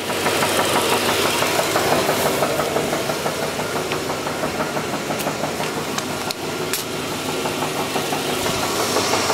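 An SS engine with a bad connecting rod knocks steadily, a loud, close, rapid metallic tapping over a continuous engine drone that runs throughout with no talk.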